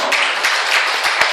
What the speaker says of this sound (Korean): 박수 한번 치고 싶죠